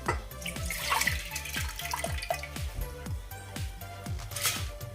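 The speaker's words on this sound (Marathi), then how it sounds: "यामध्ये ही डाळ या पाण्यासकटच मी घालते" Soaked urad dal and its soaking water being tipped into a pressure cooker on the stove, a close, continuous watery pouring and splashing with repeated soft knocks, no voices.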